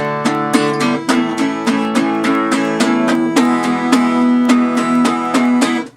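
Guitar strummed in fast, even sixteenth-note downstrokes, with sharp regular attacks over ringing chords, loud and close without any voices.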